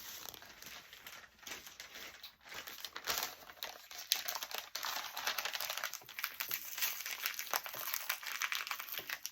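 A paper mailing envelope opened carefully by hand, giving steady close crinkling and rustling with small crackles throughout, fairly soft and continuous.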